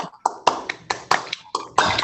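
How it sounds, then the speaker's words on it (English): A graduation audience applauding over a video call, uneven bursts of clapping from several unmuted microphones, thin and choppy with short gaps. "can everybody unmute and give our graduates a raucous round of applause, even on camera?"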